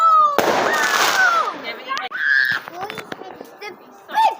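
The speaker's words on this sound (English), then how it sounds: "I think it's a little rocket." A small firework rocket on bonfire night screeches upward and bursts with a sharp bang, followed by scattered crackling pops while people shout and exclaim excitedly nearby.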